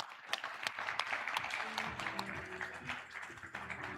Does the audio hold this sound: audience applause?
yes